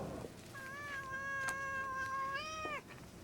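A cat in India gives a single long, clear, tonal meow with a rising and bending pitch, close and alone over faint background hiss.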